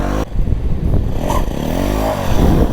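A stunt motorcycle lurches through practice circles, its engine bumping and surging in uneven bursts with clattering and scraping, loud and close with no voices.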